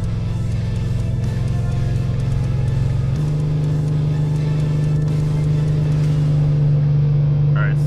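Diesel Ford F-250 engine braking at 3,200 RPM while towing a roughly 35,000 lb trailer downhill, a loud steady low drone that shifts up to a higher, stronger tone partway through and holds to the end.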